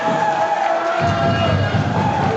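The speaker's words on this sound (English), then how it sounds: "And this crowd on fire for it as Jay Davis sends the Dreamkeeper down to the outside." An indie wrestling crowd at a TCS show roars with cheering and shouting, a dense, continuous wall of noise under an excited commentator's voice.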